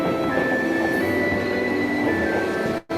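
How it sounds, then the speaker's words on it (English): A train runs on a line close beside a temple in Japan, giving a steady, fairly loud rumble with a faint high whine that holds for nearly three seconds before cutting off abruptly. "A train line passes close by the temple."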